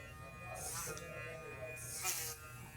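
An Instinct hair clipper fitted with a taper blade hums steadily close by, its motor buzz rising and falling as it works through hair during a haircut, with soft crisp bursts of cutting noise.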